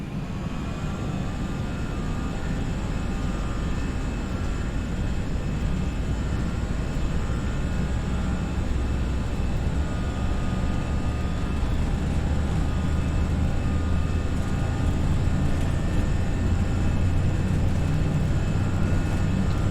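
An FSLabs A320 airliner taking off in the Prepar3D flight simulator, with steady, loud engine roar and rumble holding constant throughout, and no voices.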